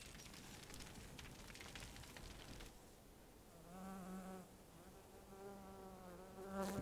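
Bees buzz in Dead Rising 3, a faint, continuous droning hum under quiet game ambience, with a few brief higher tones rising above it.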